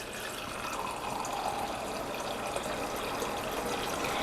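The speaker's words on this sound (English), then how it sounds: "8 ounces of cool water" A steady stream of water pours continuously with a bright, splashing hiss, close and even from start to finish, with no talking.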